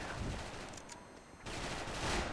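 Rapid FAMAS rifle fire in the shooter game Special Force, a dense, fast burst of shots that briefly thins out and then returns at full force.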